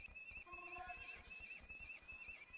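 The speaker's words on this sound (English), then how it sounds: "Sounds like a horse screaming," A horse in a video game neighs with a shrill, wavering whinny lasting a couple of seconds, mixed with soft hoof clip-clops and game background sounds.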